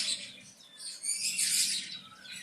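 Budgerigars, small Australian parrots, chirp in dense, overlapping high twitters that rise and fall, fairly near and moderately loud, with no talking.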